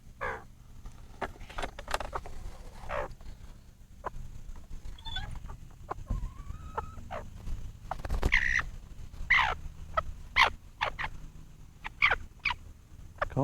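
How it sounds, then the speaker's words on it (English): A bantam hen named Honey Girl clucks close by on a small farm, giving soft scattered calls, while crows caw sharply and repeatedly in the background and farm noises fill the gaps. "This is our little, one of our bantams."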